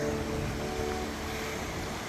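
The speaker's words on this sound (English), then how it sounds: "walking across a creek" A creek on a mountain trail flows with steady, broadband rushing water, continuous and fairly close throughout, with no voices.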